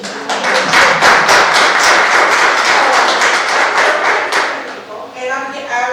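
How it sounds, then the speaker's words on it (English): An audience at a community conversation on youth emotional wellbeing applauds with dense, steady clapping that stays loud for several seconds, then thins out and fades near the end. "can we just give these girls a round of applause?"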